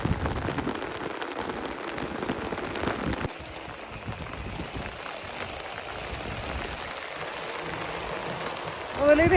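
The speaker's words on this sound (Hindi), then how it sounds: "अब ओले गिर रहे हैं।" Hail pelts down steadily at a mountain base camp near Munsiyari. The dense clatter of hailstones on surfaces is loud and close throughout, with no voices over it.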